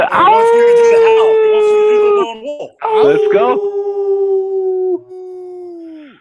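A man imitates a wolf with long, sustained howls, one drawn-out howl followed by a second after a brief break, loud and close, with other voices briefly cheering in the background.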